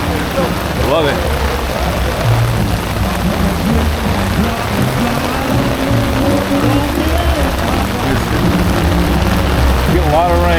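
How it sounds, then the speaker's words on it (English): Heavy rain pours steadily over an outdoor vintage car show at a 50th annual back-to-the-50s weekend, a dense, loud, unbroken drumming with faint voices underneath. "Getting a lot of rain."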